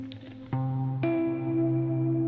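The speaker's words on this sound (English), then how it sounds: "you can hear the slight tape hiss and a bit of wow and flutter" A looped guitar phrase plays with plucked notes that sustain, carrying faint tape hiss and slight wow and flutter beneath the tones.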